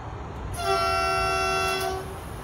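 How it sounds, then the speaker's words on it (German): A Railjet train's horn sounds in Train Simulator on the Arlberg route, one long, loud, steady tone held for about a second and a half over the low rumble of the moving train. "das Geräusch von der Hupe hört sich jetzt nicht anders an wie im Tunnel"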